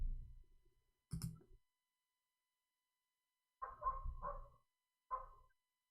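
Dogs bark in the background, a few short bursts separated by silence, fairly faint and distant, with no talking over them.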